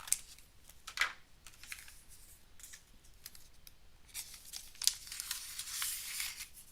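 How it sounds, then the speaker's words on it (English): Scissors snipping through material during a live stream: a few quiet, sharp cuts spaced apart, with soft rustling between them and no talking. "I'm also just going to use scissors for this one."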